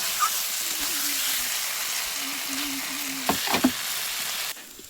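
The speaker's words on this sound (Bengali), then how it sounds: "কিছুক্ষণ পর ঢাকা খুলে আবার নেড়ে নিচ্ছি" Spiced potatoes with tomatoes fry in a pan with a steady, loud hiss of sizzling, broken near the end by a few quick scraping stirs before the sizzle drops away.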